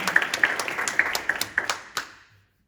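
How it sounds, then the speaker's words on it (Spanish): Congregation clapping during a church service, a run of sharp, fairly close claps in a loose rhythm for a couple of seconds before fading out. "Den un aplauso al Señor."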